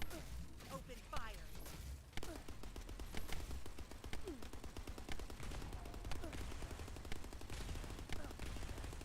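Rapid bursts of gunfire from the video game The First Descendant crackle steadily for about nine seconds, dense and continuous, with voices talking over the shooting.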